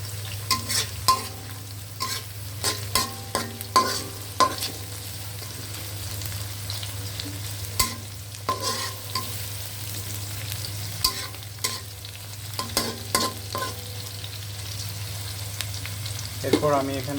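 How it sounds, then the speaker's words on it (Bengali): About a cup of sliced onions fry in oil in a pan while being stirred, with repeated scraping and clinking strokes over a continuous sizzle and low steady hum. "এখন এখানে পেঁয়াজটা বেশি ভাজা লাগবে না, হালকা আপনার কালারটা চেঞ্জ হলেই আমি তেজপাতাগুলো দিয়ে দিব।"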